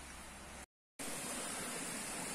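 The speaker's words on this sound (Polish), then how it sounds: "No i strumyczek sobie płynie" A small outdoor stream flows with a steady, hissing broadband rush, broken once by a brief gap of silence before it resumes, continuous and unaccompanied by voices.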